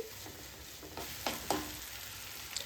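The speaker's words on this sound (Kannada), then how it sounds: "ಸ್ವಲ್ಪ ಉಪ್ಪನ್ನು ಹಾಕಿ ಇದನ್ನು ನಾನು ಚೆನ್ನಾಗಿ ಫ್ರೈ ಮಾಡ್ಕೋತಾ ಇದ್ದೀನಿ" Tomato pieces frying with salt in a pan for dal, giving a faint steady sizzle with a few soft scraping stirs of a spatula.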